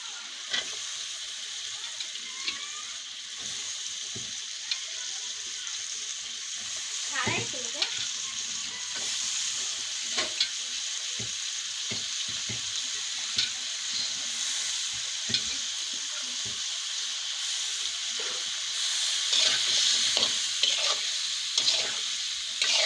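Washed vegetables sautéing with spices in a pan: a continuous sizzle under repeated scraping and stirring strokes of a spoon, fairly close, growing louder toward the end.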